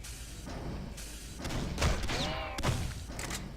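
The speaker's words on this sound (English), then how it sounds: "Grenades." Grenade blasts in a first-person shooter game: a couple of dull booming thumps roughly a second apart over a steady game background of ambient noise and tonal effects.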